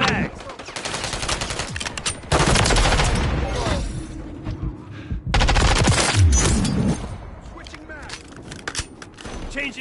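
Gunfire in a Call of Duty: Modern Warfare III multiplayer match, with rapid automatic bursts and heavy sustained volleys separated by short gaps, loud and close, with occasional voices in between.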